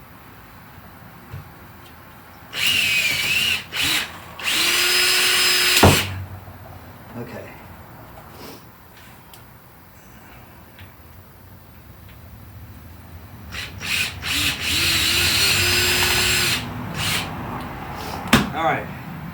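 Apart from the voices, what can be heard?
6mm drill bit drilling holes for rivet nuts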